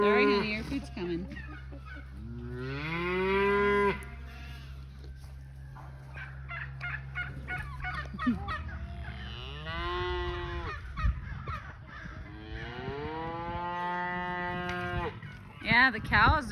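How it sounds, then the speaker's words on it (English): Cattle on a farm at autumn-morning feeding time moo repeatedly in long, drawn-out calls, some close and loud, with turkeys gobbling and people talking in between. "Yeah, the cows are waiting for Uncle Jonah."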